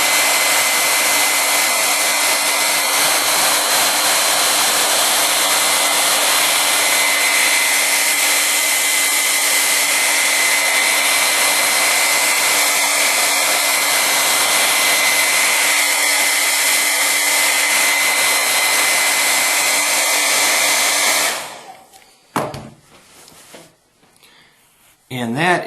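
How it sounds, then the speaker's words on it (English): A hair dryer blows hot air over a leather knife sheath treated with Sno Seal waterproofing, a loud continuous whirring drone that runs for about twenty seconds before cutting off, followed by faint handling noise. "put the hairdryer on"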